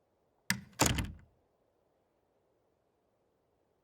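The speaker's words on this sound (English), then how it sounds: "Close the door behind us." A door swings shut behind people with two quick solid thunks close by, followed by quiet.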